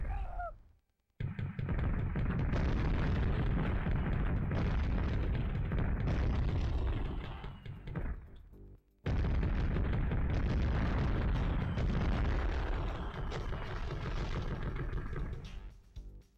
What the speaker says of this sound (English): It's just drive around and blow things up.